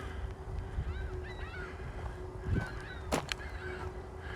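Several geese honk in short nasal calls, some distant and a couple louder and closer, over a soft outdoor background with a faint steady hum, near a lake in the morning.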